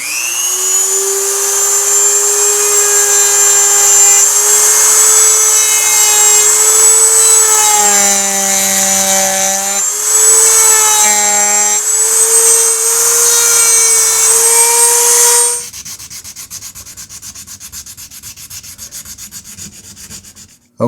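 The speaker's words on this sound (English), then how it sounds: "So let's get the Dremel here and let's take that off and see if we can make it fit a little better." A Dremel rotary tool grinds and sands G10 grips for a Smith & Wesson 329 PD revolver, a loud steady high-pitched whine with shifting pitch as pressure varies, running continuously for about fifteen seconds before cutting off to near silence.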